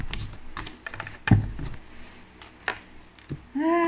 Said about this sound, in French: on bat les cartes